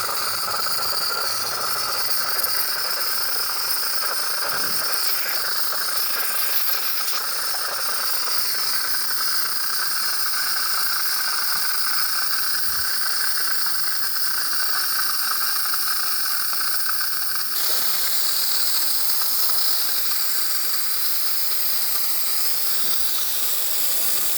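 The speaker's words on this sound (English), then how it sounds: "So let's go ahead and test the steamer. I just turn it on." A Gaggia Classic espresso machine's steam wand, freshly serviced and tuned up, blasts a steady, loud hiss of steam that holds continuously and close throughout, with no talk.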